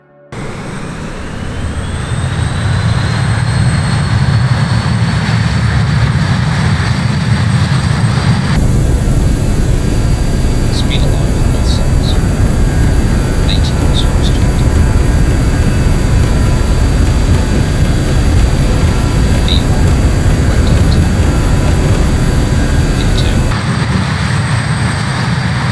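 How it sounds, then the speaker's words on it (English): An airplane taking off in Microsoft Flight Simulator rises from a whining engine spool-up into a loud, sustained roar. The roar shifts in character partway through and stays powerful and close to the end. "let's just give the plane a couple of seconds to hear the beautiful takeoff"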